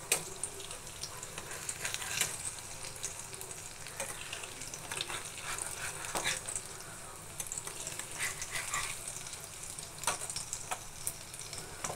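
Mixed vegetables frying gently on low heat in a pan, a soft continuous sizzle with intermittent spatula scrapes and taps, fairly quiet and without speech.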